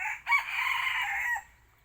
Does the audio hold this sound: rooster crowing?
yes